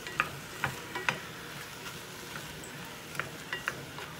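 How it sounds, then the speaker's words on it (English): Grease melts in a cooking pan with a low, steady sizzle, punctuated by a few sharp clicks of a utensil against the pan; no one talks. "I'm just melting the grease down in here."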